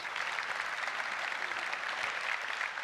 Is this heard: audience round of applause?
yes